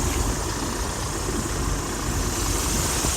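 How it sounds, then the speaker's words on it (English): A truck engine idles at the side of a freeway exit, a steady, loud, close rumble with deep low-end vibration that holds without change throughout. "Our truck's loud."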